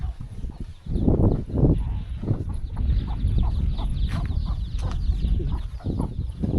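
Chickens in a village deep in the forest cluck and call in low, repeated bursts near the microphone, with steady rustling and background noise underneath.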